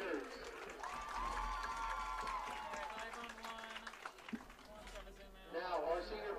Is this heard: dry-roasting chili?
no